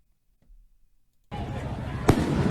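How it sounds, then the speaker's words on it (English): A firework goes off outdoors around the Fourth of July. Quiet gives way to a sudden loud, crackling roar with one sharp bang inside it, and voices can be heard faintly beforehand. "That looks like a firework."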